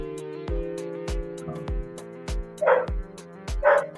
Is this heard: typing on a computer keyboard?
no